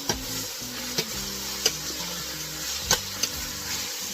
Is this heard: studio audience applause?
no